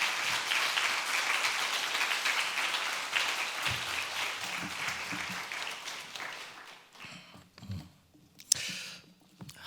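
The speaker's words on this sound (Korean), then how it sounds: "박수로 우리 박한수 목사님을 모시도록 하겠습니다." A church congregation at a Korean autumn revival service applauds to welcome the pastor, dense steady clapping for about seven seconds before thinning out into a few scattered claps and quiet rustling.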